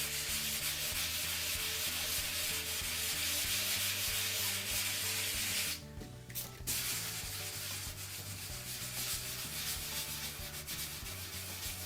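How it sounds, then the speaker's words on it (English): Steady wet rubbing of a concrete countertop's third coat by hand with the backside of a diamond hand pad, a continuous close scraping texture that dips briefly midway before resuming. "we use our hands and the backside of the diamond hand pad"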